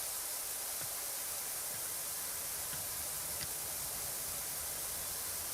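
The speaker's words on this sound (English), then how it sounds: "Here it's like white noise." Harsh, steady white-noise ambience from a video game, a flat broadband hiss filling the whole stretch at a constant level, with a few faint soft ticks scattered beneath it and no voices.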